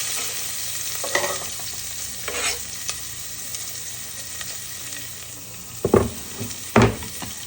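Onion and garlic sizzle in olive oil in a pot, a steady close hiss with a few scraping bursts of stirring near the end and no speech.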